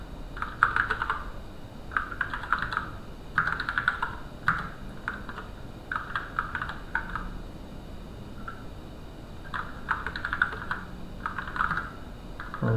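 Close keyboard typing on a computer while coding, bursts of quick clicky keystrokes separated by short pauses, fairly clear over a quiet room background.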